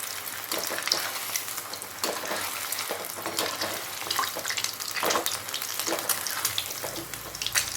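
Prawn balls (prawn kola urundai) frying in hot oil and turned repeatedly so all sides cook, giving a steady, dense sizzle with scraping stirs, close up and continuous throughout.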